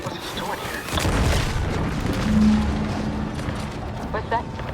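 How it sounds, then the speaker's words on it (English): A deep boom rolls out in a video game explosion, a heavy low rumble that swells and lingers for a few seconds beneath talking voices. "What's that? An explosion?"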